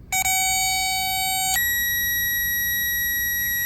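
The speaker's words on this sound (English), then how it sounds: "Let them hear the beep. See how annoying that is." A Powerprobe automotive diagnostic tool emits a loud, steady electronic beep: a high sustained tone for about a second and a half, then a different constant pitch continuing alone to the end.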